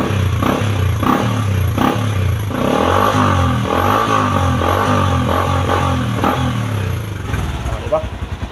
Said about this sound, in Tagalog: Pero atong i-rev, ha, sound check na to pag atong i-rev.